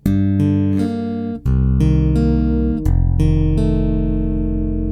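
Chords on a Chapman Stick through a bright, jangly pickup, a quick run of struck notes followed by three sustained chord changes ringing full and close, with no voices.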